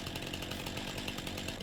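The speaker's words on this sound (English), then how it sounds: "You just need your chainsaw" A chainsaw cuts a tree in the Farming Simulator 19 video game, its buzzing engine whine running steadily and fairly quietly through the whole short stretch, with no talk.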